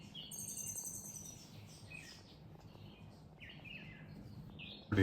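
Several small birds chirp and tweet at a distance in short bursts in a garden in Mauritius, over a quiet outdoor background, with a brief thump at the very end.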